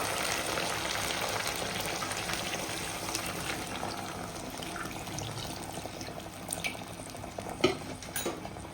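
Water is poured into a pan of Katla fish frying in spice masala, bringing a bubbling, simmering sizzle with stirring clatter and a few sharp utensil knocks near the end.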